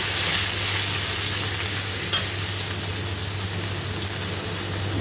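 Red fresh chili paste fries in a pan with a splash of water, giving a steady, close sizzling hiss under a constant low hum, with one brief sharp clink partway through.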